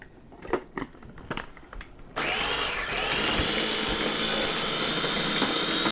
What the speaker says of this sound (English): I'm going to run mine through a blender, that way I can get the seeds and peppercorns ground up.